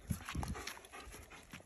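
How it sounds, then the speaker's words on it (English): A dog pants close by in quick, breathy bursts outdoors, faint and soft, with no talk over it. "Oh, that's a dog."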